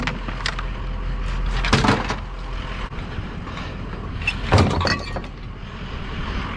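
Ceiling fans being broken apart for scrap metal, with sharp metallic cracks and clanks in two main bursts over steady outdoor background noise and passing traffic rumble.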